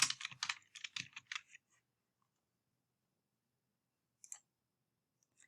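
Typing on a computer keyboard: a quick run of close, crisp key clicks for about a second and a half, then silence broken by a couple of isolated taps.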